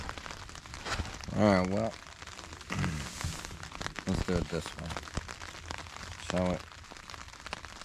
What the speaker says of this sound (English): It's raining, which you can hear.